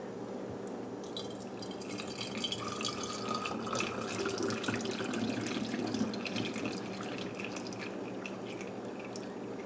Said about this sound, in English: I'll just pour it into the bottle here